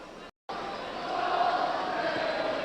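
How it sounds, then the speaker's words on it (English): Altrincham football supporters cheering inside a stadium during an FA Cup third round tie at Liverpool, a steady broad crowd roar that drops out briefly near the start, then swells and holds at a sustained distant level. "The Altrincham fans, never say die fans,"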